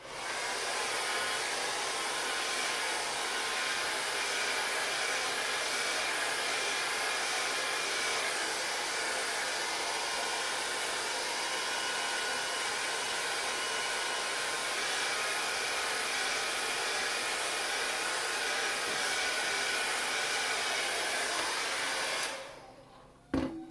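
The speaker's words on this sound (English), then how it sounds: "Go over it with the hairdryer." A hair dryer blows loudly and continuously at close range for over twenty seconds, then cuts off abruptly.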